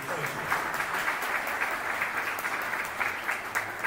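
Steady round of applause from an audience at an iTec event at NuWorld Epicenter, honoring Attorney Lunkins; dense, even clapping fills the whole stretch at moderate loudness.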